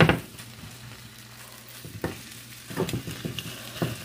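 Pork fries in a pan on a stove with a soft steady sizzle, broken by several sharp scraping and stirring knocks from a utensil, heard up close and without talk.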